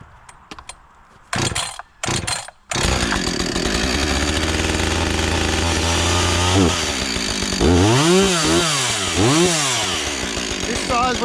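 A gasoline chainsaw with a primer bulb, choke and self-tuning carburetor is pulled a few times, catches and runs loudly up close, idling steadily before revving up and down in several rising and falling surges.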